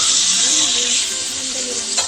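Garlic sautéing in a pan for a green bean stir-fry gives a loud, close, continuous bright sizzle, holding steady with a small tap near the end.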